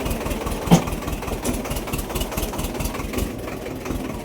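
A tractor that has just been pulled out of deep mud on a badly damaged rural road idles nearby with a steady, loud, low rumbling engine note throughout.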